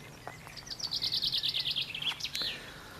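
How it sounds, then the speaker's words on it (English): A single bird sings a rapid trilling series of high, sweet notes close by in a permaculture garden in Ireland, with a few short chirps before and after over a quiet background. "Now you can hear all the birds."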